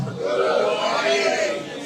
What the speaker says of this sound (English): Festive crowd.